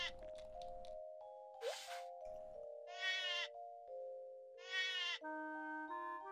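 Sheep bleat in the farming game Harvest Moon: One World, with two or three clear, nasal bleats over a steady chiming game melody and a few soft effect sounds, with no voices.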